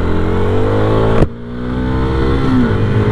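A motorcycle engine held high in the revs above 10,000 rpm, a loud close harmonic whine that cuts sharply for a gear change then climbs again steadily.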